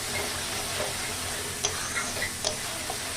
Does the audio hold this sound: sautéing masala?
yes